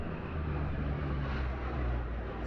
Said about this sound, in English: these airplanes right over the top of us